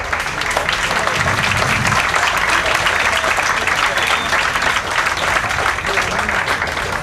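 A banquet audience applauds, with steady, dense clapping from many hands filling the room at close range and continuing without a break.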